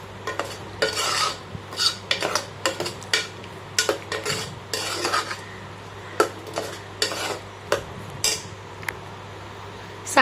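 A spoon stirs ground masala paste into ivy gourd kulambu in a pan, producing repeated scraping strokes in a steady rhythm over a faint sizzle.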